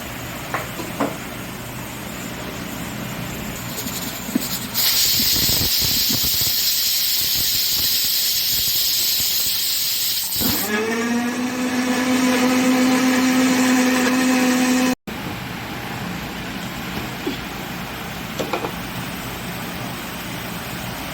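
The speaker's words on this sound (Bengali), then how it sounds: "এবার আমি মিক্সিতে এগুলোকে পেস্ট করে নেব অল্প অল্প দিয়ে পেস্ট করতে হবে" Electric mixer grinding chopped papaya into paste for jam, a loud steady whirring drone that starts and runs for several seconds, then shifts pitch as the motor labours before cutting off, with quieter kitchen sounds around it.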